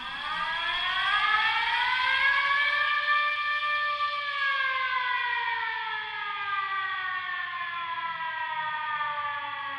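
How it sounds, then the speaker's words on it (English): An air raid siren wails over the Roman neighborhood of San Lorenzo, a loud, sustained tone that holds steady then slowly sinks in pitch, alone without voices. "The air raid siren echoes through the Roman neighborhood of San Lorenzo"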